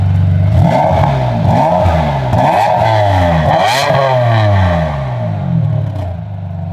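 A 1998 Ferrari 550 Maranello V12 with a Capristo exhaust, valves closed, revs repeatedly from idle, each loud blip rising and falling in pitch in quick succession, close and up front with no talk.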